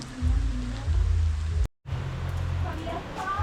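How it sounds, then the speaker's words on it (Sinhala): Heavy rain falling at a hillside luxury villa near Ella, Sri Lanka, a steady dense wash with low rumble that cuts out for a moment midway, then resumes. "වහිනවා ළමයි හොඳටම"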